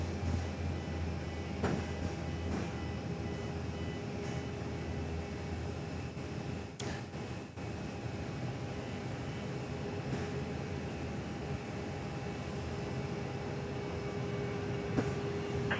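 A steady, broad roar of jet engines fills the air at Perth Airport as a plane takes off from runway 06, heard from a distance as a constant wash with no talking.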